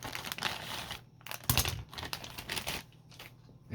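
A plastic model kit package being opened, with close crinkling and rustling of plastic wrap and cardboard in quick irregular bursts, briefly pausing before the handling resumes.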